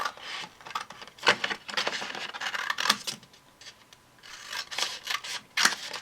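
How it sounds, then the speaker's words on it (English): Scissors snip through paper close up in a run of short, crisp cuts with brief pauses between them, no talking, while making an upcycled gift bag. "I will cut that out just with some scissors."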